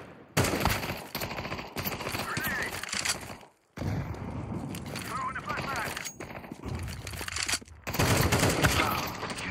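Automatic weapon fire in Counter-Strike 2, bursts of close, loud gunshots repeating across most of the stretch, with one brief gap of quiet partway through.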